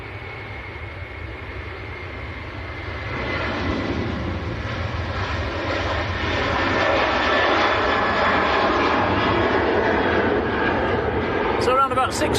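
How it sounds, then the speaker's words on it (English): An Aer Lingus Airbus A330 climbing out of fog at Manchester Airport, its engine roar building from a low rumble into a loud sustained broadband drone, with a voice talking over it. "the A330 of Aer Lingus appearing out of the fog"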